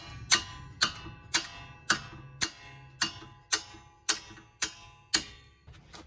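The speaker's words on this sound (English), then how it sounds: "As I use some more hammering, you see the wrench start to move." A hammer striking a wrench on a rusted nut on a Honda Pilot front sway bar end link, about ten sharp metallic clanks in a steady rhythm roughly every half second, close and clear with no talking.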